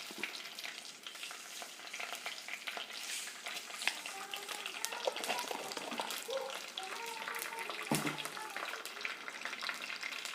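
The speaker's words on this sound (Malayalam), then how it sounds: "കുറച്ച് കടുവിട്ട് കൊടുക്കാം" Mustard seeds hit hot coconut oil in a pan and sizzle with a steady frying hiss, scattered sharp pops and crackles, and a brief clatter partway through.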